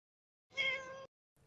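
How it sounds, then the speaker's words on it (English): A pet cat meows once in a single drawn-out, tonal call, close and clear against a quiet room, followed after a short gap by the start of another faint sound. "I hear a cat. Yeah, my cat."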